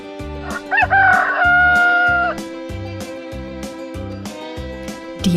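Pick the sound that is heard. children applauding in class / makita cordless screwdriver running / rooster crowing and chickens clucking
rooster crowing and chickens clucking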